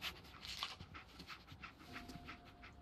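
Dogmeat, the dog companion in Fallout 4, pants steadily in quick rhythmic breaths, close and fairly quiet over faint game ambience.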